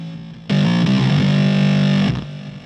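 An instrument run through Guitar Rig effects, heavily distorted and processed, a loud sustained tone with a stepped pitch change at the start that holds for over a second and a half, then cuts off.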